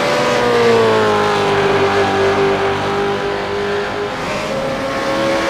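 A V8 supercar in a racing video game holds a loud, continuous engine drone that sweeps slowly in pitch as it revs and slides sideways. A faint tire squeal sits under the steady roar throughout.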